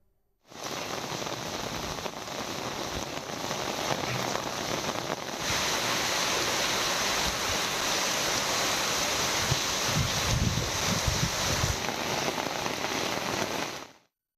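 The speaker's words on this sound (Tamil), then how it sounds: "இரவு நேரத்தில் திடீரென சூறாவளி காற்றுடன் பெய்த கனமழையால்" Heavy rain falls at night during a sudden windy storm in Vathalagundu, Dindigul district, Tamil Nadu, a dense steady roar of downpour that starts abruptly and runs close and loud for the whole stretch, with no voices.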